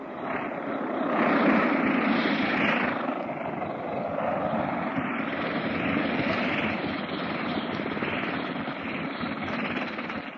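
An old radio-drama sound effect of an airplane taxiing: a steady, muffled propeller-engine drone that swells slightly and holds, without voices.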